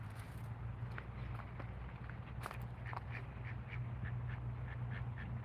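Ducks quack repeatedly in short bursts by a river over a steady low hum and outdoor background noise; no one speaks.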